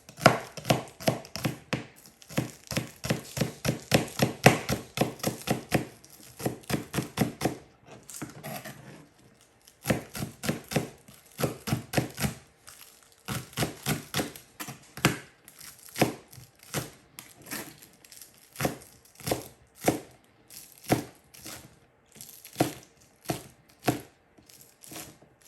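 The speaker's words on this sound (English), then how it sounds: "we want to chop those pretty fine" A knife chops about three green onions finely on a board: quick, evenly spaced taps in dense runs broken by short pauses, close and alone with no talk.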